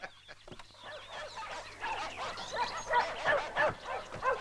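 Several dogs bark repeatedly in an irregular, overlapping flurry that grows louder toward the end, with sharp yips among deeper barks, close by and without speech.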